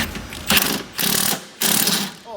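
Impact wrench tightening bolts on an R34 Skyline during a build with suspension parts, firing three loud, close, rattling bursts, each about half a second long and separated by short pauses.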